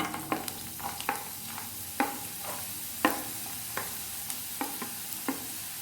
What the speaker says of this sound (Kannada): ಇದಕ್ಕೀಗ ಸ್ವಲ್ಪ ಸಣ್ಣದಾಗಿ ಹೆಚ್ಚಿರುವಂತಹ ಕ್ಯಾರೆಟನ್ನು ಹಾಕ್ಕೊಳ್ತಾ ಇದ್ದೇನೆ